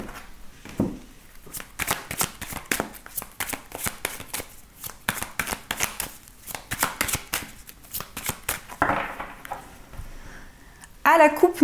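A tarot deck is shuffled and cut during a daily card reading, giving steady rapid riffling and flicking card sounds through most of the stretch, with a few sharper snaps near the end.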